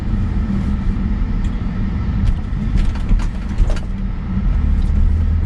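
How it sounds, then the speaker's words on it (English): A 2007 BMW X3 3.0 SI on a test drive, heard from inside as a steady low engine hum with road rumble and occasional light knocks and rattles. "we're going to take this car out for a little test drive"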